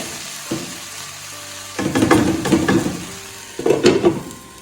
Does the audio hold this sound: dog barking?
no